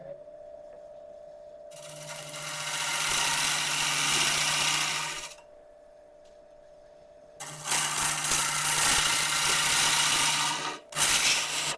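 A woodturning tool cuts into rotten wood spinning on a lathe, making two long, loud, rasping cutting passes over a low motor hum, with a quieter pause between them.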